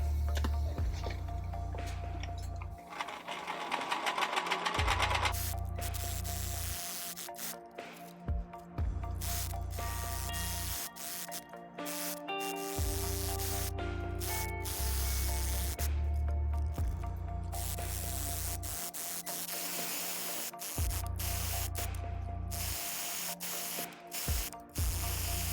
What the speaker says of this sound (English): I'm just going to overlock the pockets and legs.